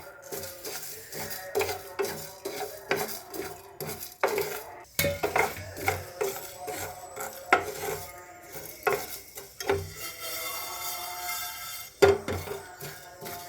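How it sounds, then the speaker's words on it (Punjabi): Whole black peppercorns and spices dry roasting in a pan for a dhaba-style chana dal masala, with steady metallic scraping and clinking of a spoon against the pan and faint sizzle throughout, close and moderately loud, no talking. "ਤੇ ਹੁਣ ਆਪਾਂ ਇਹਨੂੰ ਥੋੜਾ ਜਿਹਾ ਨਾ ਡਰਾਈ ਰੋਸਟ ਕਰਾਂਗੇ"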